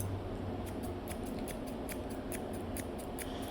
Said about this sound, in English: I'm pulling with the scissors because these have teeth